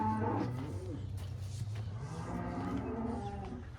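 Cattle on a working farm moo in a long, deep, drawn-out call that rises and bends in pitch, close and clear over a quiet background.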